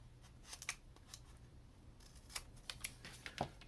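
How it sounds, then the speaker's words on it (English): Scissors snipping paper for a model castle turret, making faint, close, sharp snips scattered unevenly, a few near the start and a cluster in the final second and a half. "Snip. I cut a little more off here."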